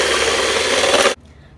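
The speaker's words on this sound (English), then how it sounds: "it's going to take probably a good 8 minutes of solid whisking" Eggs being hand-whisked into a fatless sponge mixture, a steady dense scraping rasp of the whisk against the bowl that runs continuously, then cuts off abruptly near the end.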